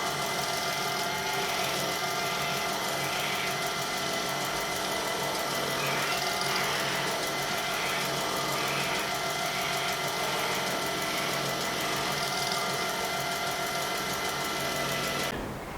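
A wood lathe turns a bowl at higher speed with a steady mechanical hum and whir, running evenly and fairly faint throughout before stopping at the very end.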